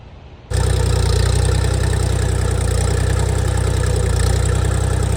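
A Kentavr 244 SX mini tractor's three-cylinder KM385 24-horsepower diesel engine idles loudly and steadily, kicking in abruptly after a brief quiet moment and chugging on with an even, low throb.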